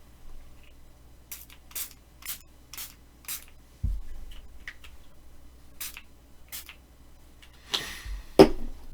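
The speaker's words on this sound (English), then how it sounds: "I was spraying my fruit enzyme on me" A fruit enzyme spray misted onto a person in a series of short, quiet hissing spritzes, several in quick succession, then a pause and a few more, with no talking.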